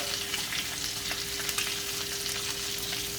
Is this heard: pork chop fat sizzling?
yes